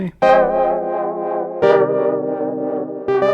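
Elektron Digitone synth run through a Demedash T-120 chorus pedal, playing three sustained harmonic notes in turn, each with a sharp attack and a rich, wavering tone, loud and alone.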